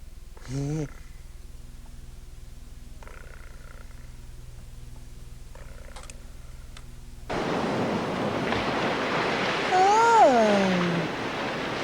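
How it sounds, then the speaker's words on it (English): A soft, rushing ocean-like wash swells in during the second half, preceded by quiet tones and a brief voice, with a high whistling tone gliding over the surf near the end. "It does sound like the ocean."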